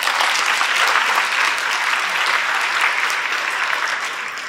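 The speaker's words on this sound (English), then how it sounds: "I'd like to give them a round of applause." Sustained audience applause for a panel at an industry seminar on strategic trade management, steady dense clapping from a sizable crowd that fades slightly toward the end.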